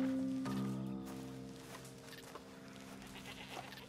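Goat bleating in the Red Dead Redemption 2 video game, a faint bleat near the start over low steady background tones and game ambience.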